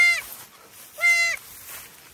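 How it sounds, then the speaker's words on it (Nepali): Goats bleat twice in close succession, each a short nasal call about a second apart, fairly near and moderately loud over a quiet background. "दुईटा पाठा बाख्री र एउटा बोका।"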